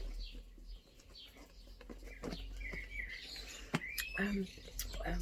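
Birds chirp in a garden, with short scattered tweets and calls coming and going over a soft, quiet outdoor background.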